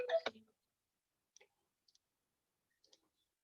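Computer mouse clicks, one sharper click at the start followed by a few faint, sparse clicks spaced out over a few seconds in an otherwise quiet room.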